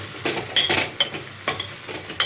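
Okra sautéing in oil in a pan for Andhra-style tamarind curry, with a soft sizzle broken by sharp stirring scrapes and a few metallic clinks close by.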